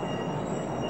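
Steady, dense rumble of a New York City subway train running through a tunnel, with a faint high whine riding over the roar.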